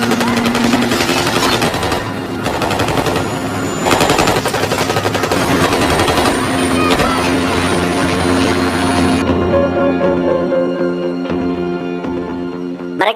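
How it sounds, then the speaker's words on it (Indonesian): Heavy machine gun bursts rattle alongside a helicopter's rotor and engine drone during a shootout with police in the action film Son of Gun, loud and continuous, with the gunfire easing toward the end while the aircraft hum carries on. "terlibat adu tembak dengan para polisi"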